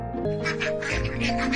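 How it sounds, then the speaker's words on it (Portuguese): A duck quacks in a quick series of nasal calls, close and fairly loud, with no voices. "É um pato."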